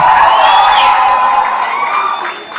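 An audience at a film launch cheers and whoops loudly, with high shouts and a dense crowd roar that stays steady and then eases slightly toward the end.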